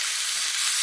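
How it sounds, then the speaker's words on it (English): Seasoned sirloin steaks, rubbed with salt, pepper and garlic, searing in a very hot dry pan with salt in the bottom, giving a steady, loud, bright hiss and sizzle throughout. "I'm going straight in with the steaks, straight into a very hot pan"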